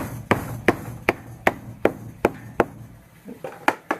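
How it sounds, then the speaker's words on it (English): A mallet taps plastic Suncast shed panels into place, about ten sharp, evenly spaced knocks heard up close with no talking. "Definitely a mallet."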